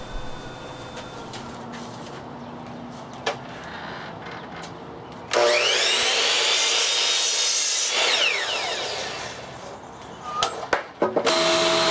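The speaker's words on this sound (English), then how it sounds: "I'm running it through the planer just to make sure the faces are nice and flat and true." Wood board fed through a planer for a router table fence, a loud, sudden roaring cut that runs several seconds over a steady machine hum, then fades back to the idling motor with a few clunks.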